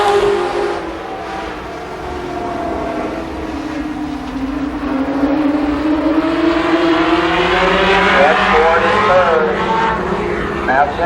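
Limited sportsman race cars at Columbus Motor Speedway roar down the backstretch on the opening lap of a trophy dash, engines droning and rising in pitch as they pass, with an announcer talking over the noise.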